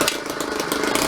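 A motorized bicycle engine fitted with a jackshaft drive runs steadily close by, a buzzy, even two-stroke-style drone with rapid pulsing and no pauses throughout.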